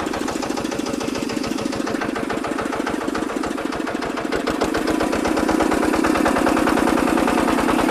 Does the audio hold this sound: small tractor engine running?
yes